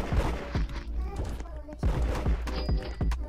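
Gunfire in the Roblox game Da Hood, a rapid series of sharp shots repeating across the moment, with a voice talking over it.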